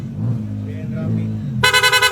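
Electric horn on a Honda ADV160 scooter sounds in a rapid pulsing series of quick toots near the end, after low idle-like rumble and a voice talking.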